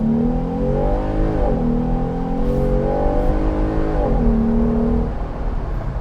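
A Jeep Wrangler Rubicon with a 3.6 liter Pentastar V6 accelerates hard, its engine note climbing through the gears in a loud, close, continuous drone with brief dips at each shift.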